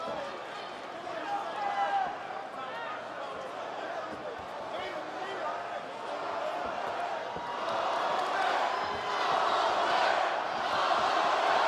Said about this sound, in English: Atlanta crowd trying to get behind Max Holloway here.